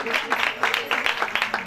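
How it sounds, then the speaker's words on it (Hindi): An audience at a church meeting in Yohanabad claps, a burst of applause under a voice talking throughout the short stretch. "आपकी भरपूर तालियों में"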